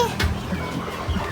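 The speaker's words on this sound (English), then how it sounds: "collecting the chicken" Chickens on a small beginner poultry farm give short, low clucks as one is gathered up and carried, the fowl sounds close and brief against a steady background.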